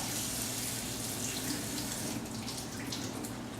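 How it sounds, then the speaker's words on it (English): Cold tap water runs steadily into a sink while food is rinsed under it, a constant close hiss of flowing water with faint splashing variations. "We're going to rinse it under cold water"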